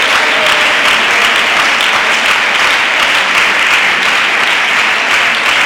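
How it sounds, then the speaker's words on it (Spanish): Sustained, loud applause from a church congregation at a Pentecost service fills the space evenly from start to finish, with no voices rising above it. "denle aplausos a la presencia de Dios"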